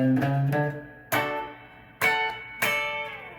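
Rhythm guitar picks double stops on the top two strings, four crisp, bright plucked hits spaced unevenly, each ringing briefly before the next, clean and close.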